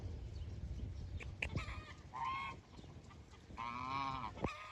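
Geese honk loudly and close by in several short bursts, mixed with some clucking from chickens or other fowl on a farm, with no talk over the calls.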